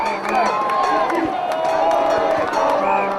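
A sold-out homecoming football crowd of 7,400 fans roars and cheers continuously, with whoops and shouts over a dense, loud wall of voices and scattered clapping.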